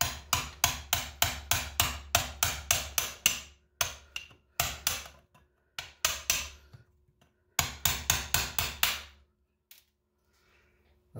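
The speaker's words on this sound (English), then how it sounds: "cutting with a chisel." Sharp, ringing hammer blows drive a chisel through rivets on a hybrid battery sub-pack from a 2006–2016 Toyota Highlander or 2010–2016 Lexus RX450h, landing in quick rhythmic bursts of a dozen or so strikes, loud and close, separated by short pauses.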